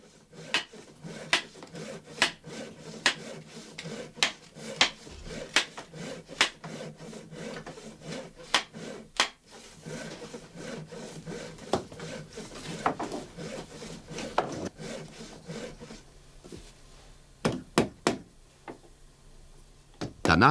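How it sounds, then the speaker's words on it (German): A rake maker drives a wooden rake head and fork together with a hammer, sharp wooden knocks at irregular intervals over steady rubbing and scraping handwork, with faint talk. "treibt mit einem Hammer die beiden Teile fest ineinander"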